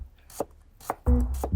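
A knife chops through a stack of thin ginger slices on a cutting board, sounding as a few crisp, separate strokes and then a quicker run of close, loud cuts.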